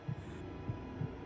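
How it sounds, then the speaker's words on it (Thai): A racing heartbeat effect from The Outlast Trials horror game thumps low and muffled, three quiet beats over a faint background hum. "ต้องฟังเสียงหัวใจเราอ่ะ หัวใจคุณมันเต้นรัวๆเลยอ่ะ"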